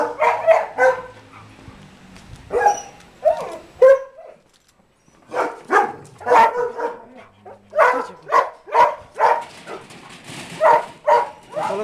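A puppy barks and yips in rapid bursts, loud and close, with a short quiet gap partway through before the sharp barks resume in a quick repeated series.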